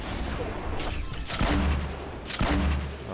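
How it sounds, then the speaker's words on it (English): Rockets fire in a video game, two heavy booming launches with whooshing blasts about a second apart over a rumbling battle bed. "I also have rockets"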